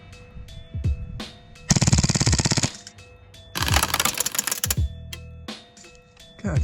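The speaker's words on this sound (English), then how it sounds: "Loaded up just 2 more mags, just so we can get some more full auto" An airsoft gun fires full auto outdoors in two rapid, buzzing bursts of shots. Scattered single clicks and low thumps sit around the bursts.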